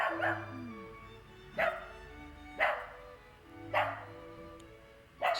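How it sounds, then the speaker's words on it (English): A dog barks in a quiet early-morning street in Arles, France, sharp single barks repeating about once a second at moderate distance, with a short whimper among them. "this dog is wondering who's coming down his street"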